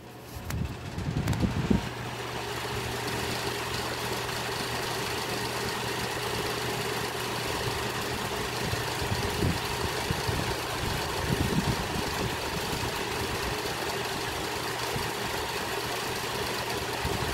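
A 1982 Lakewood model 1200A electric fan runs on its high setting, giving a steady, close whooshing drone with a faint hum, after a brief louder knock near the start.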